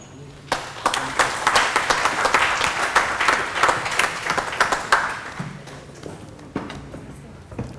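An audience at a World Environment Day panel discussion applauds as a speaker is welcomed on stage. Crisp, fairly loud clapping builds quickly, holds for several seconds, then thins to a few scattered claps.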